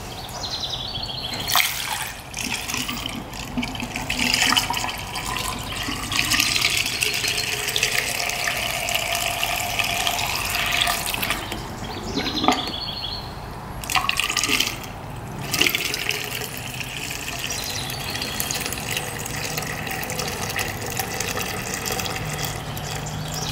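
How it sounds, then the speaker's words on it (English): Coolant pouring and trickling into the radiator of a used 4x4 ATV, a steady liquid gurgle with a few brief louder splashes, close by and with no talking. "Alright, let's add some coolant right to here."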